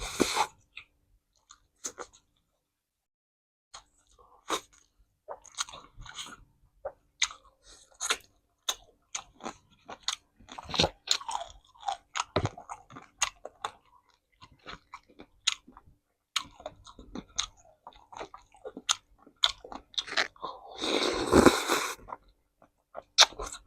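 Close, wet chewing and slurping of a glass noodle chicken curry, an Isaan dish made with free-range chicken and fragrant herbs, in irregular bursts of mouth noise and crunchy bites, with a louder sharp burst near the end.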